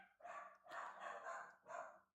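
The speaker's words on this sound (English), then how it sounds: "My dog is now screaming." A dog barks and yelps loudly in a home while someone builds a model kit, in three long, strained bursts with short gaps between, heard alone without talk.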